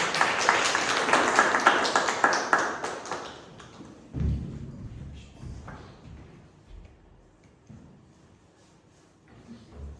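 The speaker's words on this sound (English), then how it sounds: "Can we have a huge round of applause?" Audience applause at an inter-club debate competition, a dense burst of clapping for the first few seconds that fades away, followed by scattered thumps and taps.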